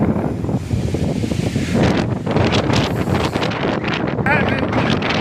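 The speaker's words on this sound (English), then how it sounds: "This wind, I'm not even on the summit, and it is not playing fair." Strong gusting wind on a mountain hiking trail in Roosevelt National Forest, heavy rumbling buffeting on the microphone with surging gusts, loud and continuous, with a voice heard faintly under it.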